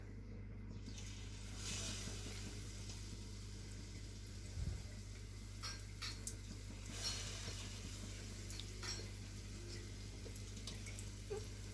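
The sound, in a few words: sweet bonda batter dropped into hot frying oil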